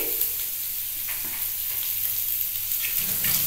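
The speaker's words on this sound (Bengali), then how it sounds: "একটু একটু নেড়ে নিচ্ছি, হালকা তেল দিয়ে নেড়ে নিচ্ছি" Chopped carrot and onion sizzling in a little oil as they are stirred in a pan, a steady close hiss with faint scraping of the spoon.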